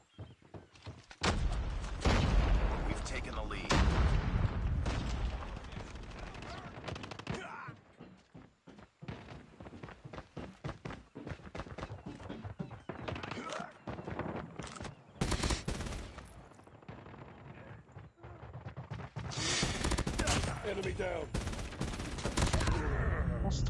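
Gunfire in Call of Duty Mobile ranked play with a burst-fire weapon, rapid volleys of shots in clusters with pauses between, plus occasional thuds and movement, fairly loud.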